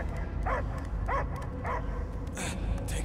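Dog in the game Guardians of the Galaxy, giving a few short yipping barks spaced about half a second apart, followed by a whimpering yelp, with low rumbling game ambience underneath.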